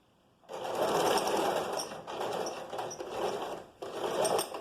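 Sewing machine running a straight seam through fabric in steady rapid bursts of stitching, three close runs separated by brief pauses, heard alone and near.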